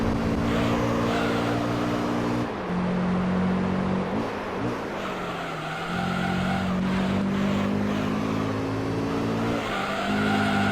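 A car in Gran Turismo 3 fitted with a racing exhaust drones at high revs, the engine note dipping and climbing through gear shifts and corners, with tyres squealing and skidding at times, loud and continuous with no talk.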